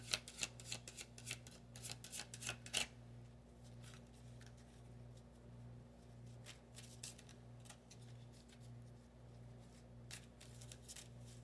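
A deck of tarot cards is shuffled in quick riffling bursts, loud and close, then the room goes quiet under a low steady hum.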